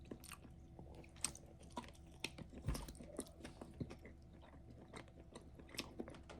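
Close, loud chewing of a cheese quesadilla and steak street tacos: moist, crunchy bites and smacking mastication in an irregular rhythm, with no talking.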